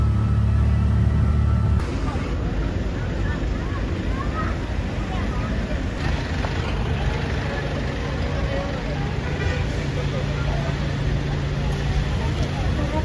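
Tricycle motor and road rumble on a ride toward the Chocolate Hills in Bohol, a steady close drone with wind buffeting the microphone throughout.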